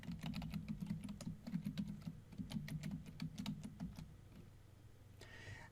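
Rapid typing on a computer keyboard at a Linux terminal, light clustered key clicks in quick bursts under a steady low hum, then a brief pause near the end.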